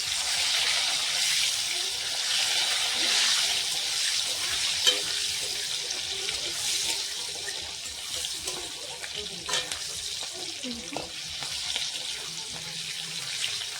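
Food frying in a pan with salt and turmeric gives a continuous hissing sizzle with occasional stirring clinks and scrapes, close and steady throughout, with faint talk in places.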